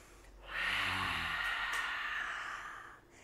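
A single long, deep inhale during a power yoga class, a steady airy hiss lasting a couple of seconds, close and fairly quiet, heard alone.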